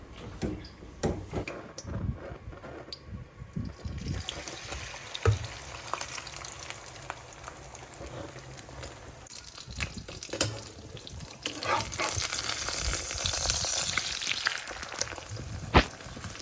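A large batch of eggs fries in a pan, giving a continuous sizzle and crackle that swells louder toward the end, with occasional clinks and scrapes and no talking.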